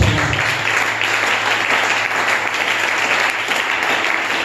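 A congregation applauds steadily and loudly throughout a Sunday church service during a sermon, a dense, continuous clapping with no pause.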